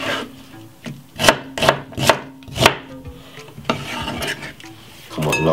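A knife chops cherry tomatoes into quarters on a cutting board in a home kitchen, giving a run of close, crisp thuds in an uneven rhythm with softer scraping between cuts.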